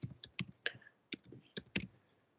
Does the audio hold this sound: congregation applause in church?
no